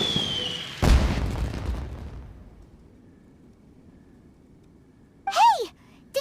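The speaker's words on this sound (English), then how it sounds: "Did you hear that explosion? Maybe it was fireworks." A deep boom bursts out early in a Genshin Impact scene and rumbles away, followed by quiet and then a short rising-and-falling whistle like a firework, with a soft thump at the close.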